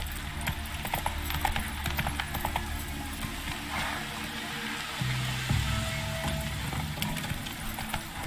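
A horse's hooves clip-clop in a steady trotting rhythm in The Witcher 3, close and moderately loud over a faint game ambience, with a short tonal sound midway.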